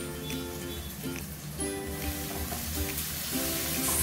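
Gongura leaves hit a pan of mutton curry and set off a steady, moderately loud sizzle and crackle that runs unbroken with no voices.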